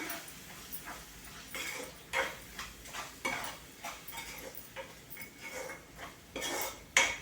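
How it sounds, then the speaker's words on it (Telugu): A spoon stirs biryani masala, garam masala, tomato and onion in a pan, making repeated soft scraping and clinking strokes of metal against the pan at close range, steady and fairly quiet. "ఇప్పుడు ఒకసారి అంతా కలుపుకుందాం"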